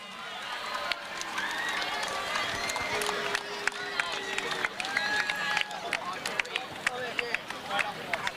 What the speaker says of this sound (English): Can we get a big round of applause for tonight's umpires?